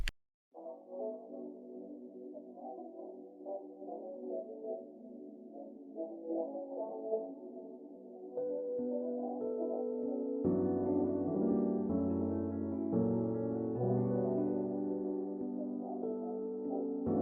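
A sustained synth pad with a formant-shifted vocal sample hums with a breathy vocal-like tone, then thickens midway as deeper layered chords swell in and hold to the end.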